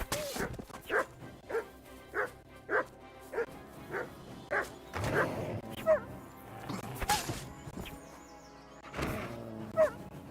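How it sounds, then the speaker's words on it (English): Dog in Kingdom Come: Deliverance II barking repeatedly in short, close, loud yaps and woofs at a steady rhythm, with a few whimpers mixed in and game sounds in the background. "the dog is like barking nonstop"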